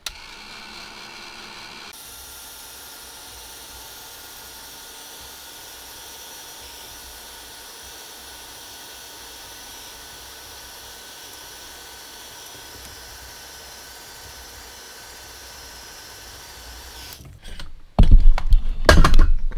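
A heat tool whirs steadily for most of the stretch, drying a freshly embossed greeting card at close range, then a few loud, abrupt knocks and handling noises end it.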